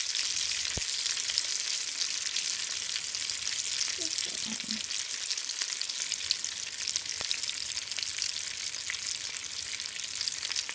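Rolled tacos browning in a pan of hot oil give off a steady, even sizzle that runs unbroken and close, with a couple of faint clicks from the pan.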